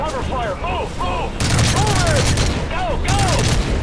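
Battlefield gunfire crackles in sustained volleys during a Call of Duty MW3 European siege mission, loud and continuous beneath shouting voices and rising-falling tonal calls.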